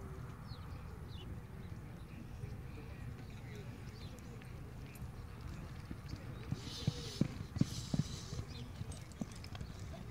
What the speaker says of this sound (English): It is a pony, I think.